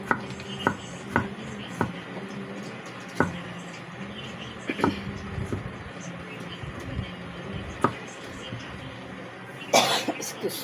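Someone coughs repeatedly from an itchy throat, sharp separate bursts spread across the stretch, mixed with kitchen clatter and a brief louder noise near the end.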